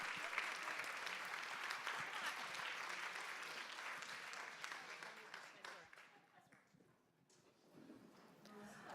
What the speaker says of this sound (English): I would love to hear one more roaring round of applause for all the generosity here this afternoon